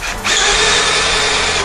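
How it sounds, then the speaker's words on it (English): A power drill whirs steadily at high speed while drill-tapping threads into an aluminum roof rack for a Jeep XJ. A brief start leads into a continuous close-up buzz. "We are going to drill tap this because it's going to be really hard to get to bite with a hand tap."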